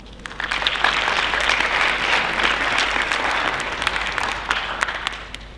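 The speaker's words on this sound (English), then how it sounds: "so let's give us a big round of applause" Audience at a high school graduation ceremony applauding steadily, a dense sustained wash of clapping from a large crowd that holds for several seconds before easing slightly.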